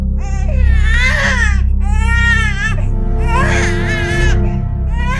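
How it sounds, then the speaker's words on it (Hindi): A small baby cries inside a silver box in a haveli in a Hindi horror story, giving loud, close, wavering wails in three long bursts with whimpering breaths between them. "डिब्बी के अंदर से एक छोटे बच्चे के रोने की आवाज आ रही है।"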